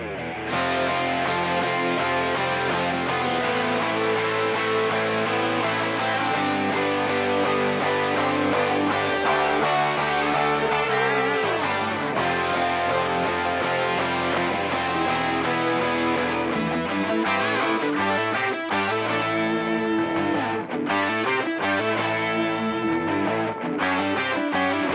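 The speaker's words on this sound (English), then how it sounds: "I'll play this mix through, and what I'll start to do is just fade up this parallel bass distortion track" Full band mix playing continuously at steady loudness while a parallel distorted bass track is gradually faded up underneath, adding gritty, buzzy edge to the low end.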